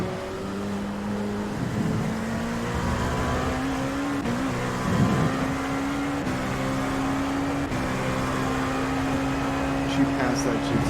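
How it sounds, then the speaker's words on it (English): A Cadillac prototype racing car in a video game, engine holding a steady droning tone with slight pitch shifts through the run, while a person talks over it. "Cadillac sounds good. It does sound good."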